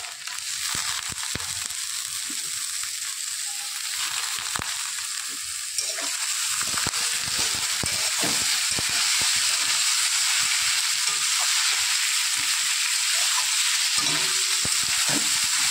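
Chopped potatoes drop into hot oil with nigella seeds and green chilli and fry, a loud crackling sizzle that bursts up and then settles into a steady hiss, with sharper pops and scrapes breaking through.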